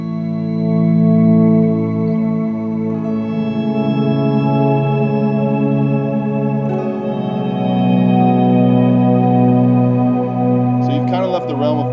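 Ambient electric guitar swells run through analog, digital and tape delays, two reverbs and an octave pedal, forming a sustained, layered harmonic wash that rises and shifts continuously, with a brighter shimmering burst near the end.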